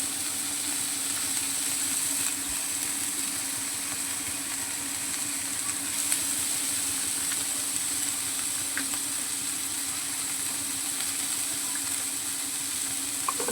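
Ginger garlic paste sizzles steadily in hot oil in a pan while cooking a Bengali potol dish, a constant close frying hiss with faint stirring clicks throughout.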